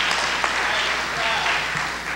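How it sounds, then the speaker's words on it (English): Audience applause at a lecture event, a steady, fairly loud patter of clapping throughout with faint voices mixed in. "let's give these brothers a round of applause"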